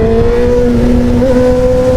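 A 2011 Honda 600 Hornet motorcycle brakes and then reaccelerates, its engine holding a loud, close, steady drone that rises slightly in pitch, with no talk.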